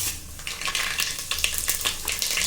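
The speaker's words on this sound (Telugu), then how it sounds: "కొంచెం నూనె వేసుకున్నాం తిరగవాతకు ఆవాలు జీలకర్ర మెంతిపప్పు శనిగాళ్ళు వేసేద్దాం" Mustard seeds, cumin, fenugreek and chana dal sizzle and crackle in hot oil for a sambar tempering, a steady frying hiss with quick popping bursts close by and no speech.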